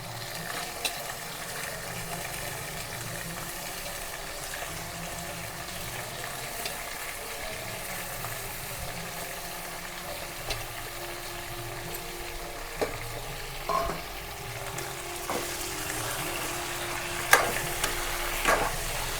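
Fish pieces fry in oil for a Bombay fish pulusu, a soft, steady sizzle heard up close with a few faint clinks of stirring.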